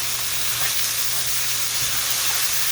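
Garlic and onions sizzling in hot oil for a Punjabi chickpea curry, a dense, steady close-up crackle with faint stirring scrapes.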